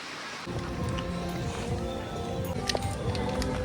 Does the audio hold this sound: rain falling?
yes